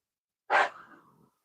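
A single dog bark or huffing yelp close by, a sharp burst that trails off into a breathy tail, alone with no talk.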